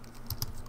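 Two quick keystrokes on a computer keyboard while typing a terminal command on a Raspberry Pi, close and crisp, separated by a short gap over a quiet hum.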